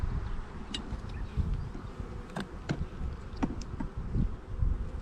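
Honey bees buzzing during a hive inspection, a dense, close swarm hum with individual bees zipping past the microphone in quick loud passes.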